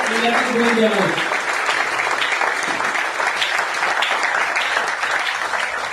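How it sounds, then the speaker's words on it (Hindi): Loud, sustained audience applause at a Modicare event in Hisar, welcoming two leaders onto the stage. A voice is heard briefly at the start, then continuous clapping holds steady to the end. "मैं दोनों को एक बार जोरदार तालियों से इनवाइट करता हूं।"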